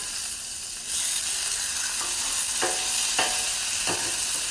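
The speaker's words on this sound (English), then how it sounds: "Again, we're gonna flip this steak." A ribeye steak sizzling loudly on a Blackstone griddle just after being flipped, a dense constant hiss that swells slightly, with a few soft scrapes and taps of a spatula.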